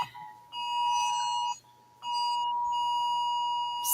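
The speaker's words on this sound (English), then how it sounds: "Oh, Amber Alert." An Amber Alert emergency tone sounds from a phone, a loud, piercing, steady two-tone alarm in two long bursts separated by a short gap.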